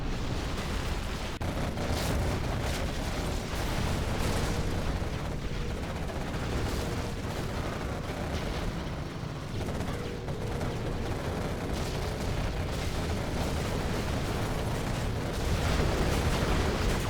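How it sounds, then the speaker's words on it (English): Video game artillery fire and explosions, a dense, relentless barrage of booming blasts and crackling gunfire rolling on for the whole stretch, loud and close. "The artillery coming in."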